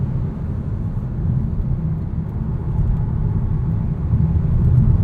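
Inside the cabin of a 2022 Volkswagen Taos 1.5T SEL AWD driving on a bumpy road, a steady low road and engine rumble holds at moderate volume throughout with no voices.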